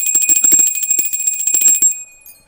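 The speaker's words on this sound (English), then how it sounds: "I brought the big bell back" A small handheld bell rings rapidly and repeatedly to cleanse a room, each strike bright and clear over a sustained high metallic tone, then the ringing fades out after about two seconds, with no talk.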